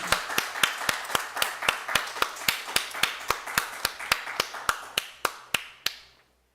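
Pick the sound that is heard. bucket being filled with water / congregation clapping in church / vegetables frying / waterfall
congregation clapping in church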